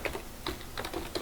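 An email address being typed on a computer keyboard: a short run of light, close key taps at an uneven pace over about a second.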